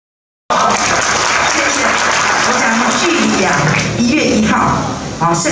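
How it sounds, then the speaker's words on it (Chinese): An audience applauds a retired former school principal at a public event, sustained dense clapping that starts abruptly and stays loud and close, with talk mixed in. "我们给他掌声哈"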